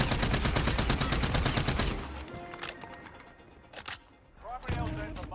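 Rapid automatic gunfire from a Cold War-era weapon in Warzone, a dense fast burst for two seconds, then scattered shots and clicks, and another short burst near the end.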